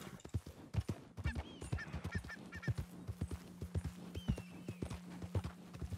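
Horse hooves clip-clopping in Red Dead Redemption 2 as a rider travels across country, a brisk regular beat of close hoofbeats with bird calls and honking fowl in the background.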